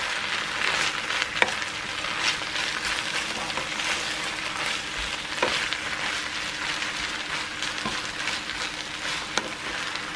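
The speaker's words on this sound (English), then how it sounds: "And we're adding the potatoes to it. And we mix everything nice." Grated potatoes for rösti fry in a pan with bacon, giving a continuous, close, even sizzle with occasional soft crackles and stirring sounds.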